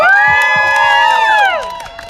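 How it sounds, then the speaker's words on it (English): Protesters gathered outdoors in Washington, DC cheer and whoop loudly in a short burst, sustained shouted voices ringing close by with a few claps mixed in. "Can we get a round of applause,"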